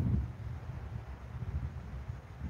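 Low, rumbling wind gusts buffet the microphone on a frozen Lake Minnetonka in sub-zero cold, a steady dull roar with no voices.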